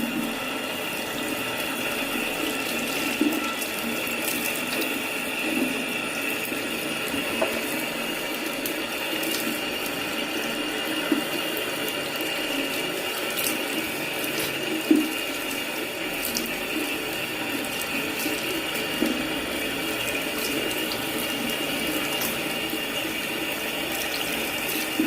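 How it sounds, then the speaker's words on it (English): Water runs steadily from a bathroom tap while a cloth is rinsed under it, producing a continuous hiss with small clicks and splashes throughout, close by and with no talking. "I'm just going to be rinsing it out now"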